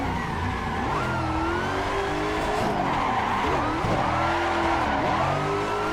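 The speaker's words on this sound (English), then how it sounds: "Could not keep that four-wheel slide just going there." A Toyota GT86 in Assetto Corsa at Atron Circuit holds a four-wheel slide, its tires squealing in long wavering tones over a steady engine drone that rises and dips, loud and continuous.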